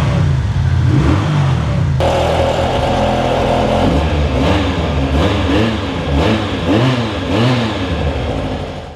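V-twin EFI superbike engine idling and blipping at close range, with repeated throttle revs rising and falling over a steady low rumble, loud and continuous with no talk.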